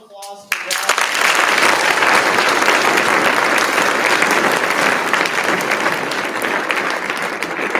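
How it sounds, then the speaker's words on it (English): Loud sustained applause from a school audience at an alumni event, a brief voice at the start before dense clapping swells and continues steadily to the end. "Give a round of applause for that."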